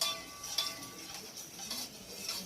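A spoon stirs an ice cream or jelly mixture in a bowl, with soft scraping and clinking strokes repeating close by and quietly, with no talking.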